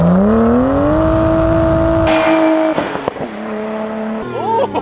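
A Nissan R32 Skyline with an aftermarket exhaust revs up, its engine note climbing and holding loud and close for about two seconds before dropping back, followed by clattering and a faint voice.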